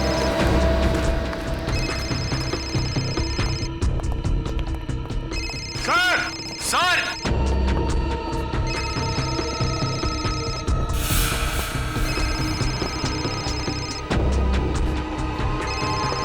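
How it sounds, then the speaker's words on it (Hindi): A telephone rings nearby at a crime scene in a Hindi police drama, with repeated electronic ring bursts under dramatic background music while people talk urgently. "पर सालुंके साहब का फोन तो यहीं पे बज रहा था ना"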